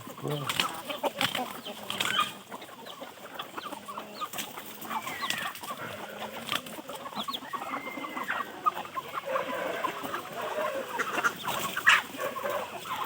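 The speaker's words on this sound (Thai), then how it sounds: "นี่แม่ไก่ ไก่รุ่นลูกกับ แม่ไก่รุ่นแม่นะครับ" Hens cluck continuously in a busy farmyard chorus as they are fed corn in the evening, with occasional wing flaps and squawks nearby.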